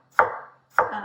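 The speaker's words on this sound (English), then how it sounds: "Next, I have about half a tomato that I'm gonna chop really" Half a tomato is chopped on a board with a knife: two crisp, close knife strikes spaced about half a second apart, with no talking.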